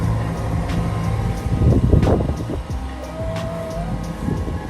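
A boat's engine is throttled up to raise the revs, giving a steady, moderately loud mechanical drone with some rising surges and a brief higher whine partway through.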